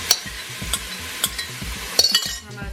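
Zucchini stirred in a hot pan, a steady sizzle under a few sharp utensil scrapes and taps spaced irregularly, close and fairly loud.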